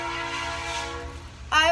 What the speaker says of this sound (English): the train tracks are across my house, so you might hear it in this video, and they're really loud